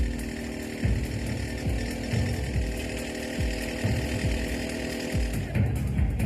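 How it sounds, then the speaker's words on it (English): A rock drill bores into the center of a boulder held steady by a claw during Panama Canal excavation, a loud continuous grinding mechanical drone with rhythmic percussive thumps repeating every second or so. "The claw holds the boulder steady, and workers drill straight into its center."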